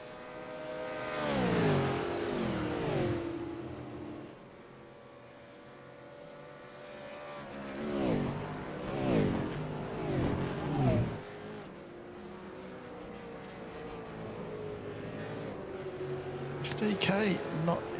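V8 race cars in an East Coast V8 series round at Le Mans roar past in several distinct passes, engines rising and falling loudly as they sweep by, with a commentator talking over parts.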